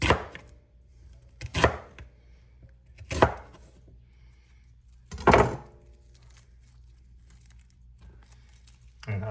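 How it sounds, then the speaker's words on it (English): An onion sliced thin with a knife on a cutting board: four or five distinct crisp chops spaced a couple of seconds apart, close and fairly clear, with quiet handling noise between strokes. "we're just going to slice the onion"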